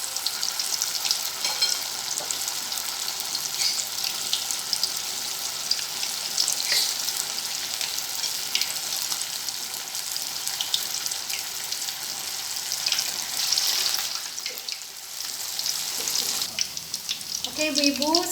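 Batagor frying in hot oil, a steady crackling sizzle with bursts of bubbling that runs throughout, and a brief voice near the end.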